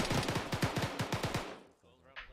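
Gunfire during a military squad training session in the Arma simulation game: a quick string of about a dozen sharp shots at a steady rapid rhythm, fairly distant and moderate in level, ending abruptly before a faint trailing noise.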